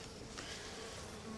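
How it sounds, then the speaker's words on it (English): Defensive honeybees swarm around a winter hive opened with frames stuck together, a dense close buzzing hum that carries on steadily throughout. "yeah, they're trying to, a lot of defensive bees here."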